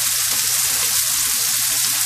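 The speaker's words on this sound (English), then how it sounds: "Until they get the pink color, we'll fry one side, then we're gonna turn the other side." Shrimp fry in a pan with a loud, continuous, even sizzle and no voices over it.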